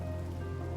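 Rain falls in the video game RimWorld as a steady, even hiss that carries on briefly without a break, with no voices.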